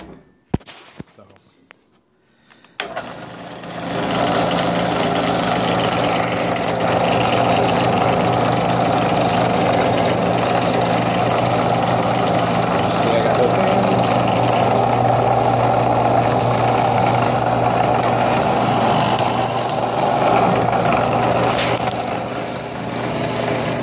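A homemade oscillating spindle sander starts after a few clicks and runs at a steady, droning hum with a low grinding buzz for about twenty seconds, close by.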